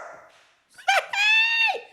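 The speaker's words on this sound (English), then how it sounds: "The dog back." A dog gives a short yelp and then a longer, high whining bark, close and clear, after a voice fades out.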